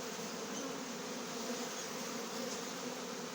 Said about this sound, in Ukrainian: бджоли дуже злі, тому що у нас холодно